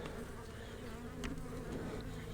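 Steady insect buzzing, a dense droning hum of many honey bees in a hive close by, continuous and even throughout with no voices.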